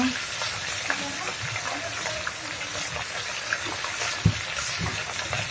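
Continuous sizzling of hilsa fish frying in oil, fairly faint and even, with occasional soft pops and clinks from the pan.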